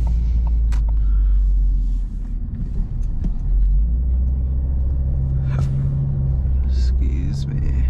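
Box truck driving on a sunny day in Stamford, Connecticut and pulling into an office lot, with a loud steady engine rumble and road noise from inside the cab and a brief dip midway.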